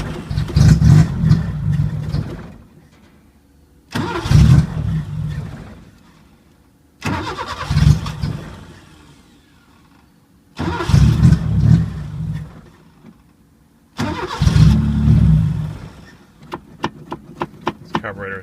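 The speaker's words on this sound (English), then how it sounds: "This thing has no muffler, straight pipe with a like a 3 or 4 inch chrome tip on it." A 1980 Chevy Luv truck engine with no muffler and a straight pipe with a large chrome tip runs loud in five repeated bursts, each a few seconds long with pauses between, ending in a rapid ticking flutter.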